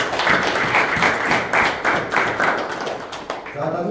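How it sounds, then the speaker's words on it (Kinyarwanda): Rhythmic clapping from a church congregation at a Sunday school service, steady beats roughly twice a second, fairly loud and close, with voices mixed in throughout. "mumukomere amashyi ariko"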